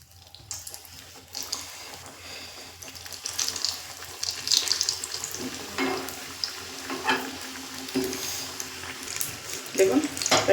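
Chicken patties frying in oil in a wok over a low flame give a crackling sizzle that builds and flickers with scattered pops and clatters, while a voice talks intermittently over it.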